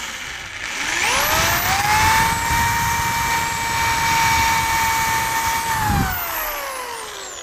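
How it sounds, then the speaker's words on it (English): A power drill bores pilot holes into the wood of a homemade desk caddy, its motor whining up to a steady high pitch for several seconds, loud and close, then winding down. "now we're going to drill those pilot holes"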